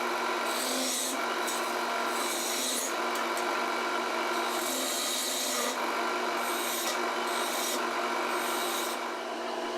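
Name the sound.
turning a wooden table leg on a lathe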